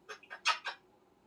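A parrot gives four quick, raspy hacking bursts in a row, imitating a human cough, close and fairly quiet.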